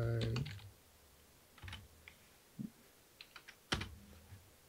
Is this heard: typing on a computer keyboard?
yes